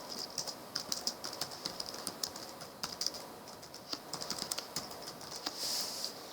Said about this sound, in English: I'm going to open up my text editor, and here I'll just type in hi